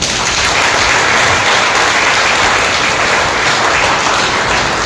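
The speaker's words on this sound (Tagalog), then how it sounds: "pumalakpak po sa Panginoon" Church congregation applauding during a service, a continuous wash of clapping from many hands, loud and even throughout with no voices over it.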